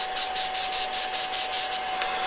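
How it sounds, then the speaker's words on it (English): Rapid bursts of spray-gun hiss as top coat goes onto a dyed car seat, about eight short even pulses close to the mic, then a fading steady hiss. "we're just going to put a top coat on"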